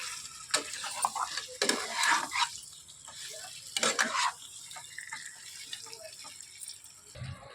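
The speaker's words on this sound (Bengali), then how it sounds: "ভালোভাবে চিকেনের সাথে মশলাগুলোর সঙ্গে একসাথে ভালোভাবে আর একটু কষে নেব" Chicken is stir-fried with spices and yogurt, making bursts of wet scraping and stirring at an irregular rhythm over a soft sizzle, close by, with quieter stretches between strokes.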